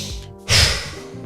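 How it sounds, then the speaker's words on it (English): A person draws two quick sniffs through the nose, a brief pause, then lets out one long, loud, breathy exhale up close. "it's a double sniff in followed by a long exhale"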